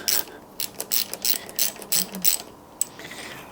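Close, crisp ratchet clicks in quick bursts as a handlebar stem's bolts are loosened on a Lectric XPedition e-bike, with short pauses between the strokes and no talking.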